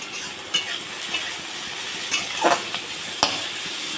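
Vegetables for fried rice are stirred and fried in a pan, a steady soft sizzle broken by several sharp scrapes and clinks of the spatula against the metal.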